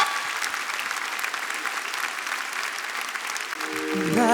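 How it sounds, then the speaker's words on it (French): A concert audience at a children's show gives sustained, even applause, a steady wash of many hands clapping for a young singer, with music beginning to rise at the very end. "faire un tonnerre d'applaudissements pour"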